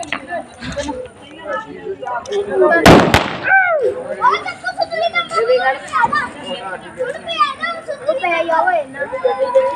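A sharp burst of firecrackers pops once, loud and close, at a village Ravana effigy burning in Barnala, Punjab, amid a busy outdoor scene of children shouting and chattering.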